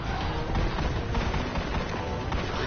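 Explosive ammunition orbs being shot in the video game Destiny, producing a dense, continuous barrage of booming gunfire and blasts with no pauses.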